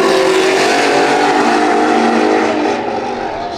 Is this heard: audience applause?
no